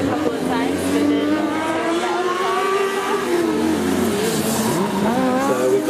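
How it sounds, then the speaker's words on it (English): A Formula Student race car, number 74, runs its endurance event at FSG 2012, its engine note rising and falling as it revs through the gears and corners, with commentators talking over it. "We've got car number 74 out now, UDL Logan."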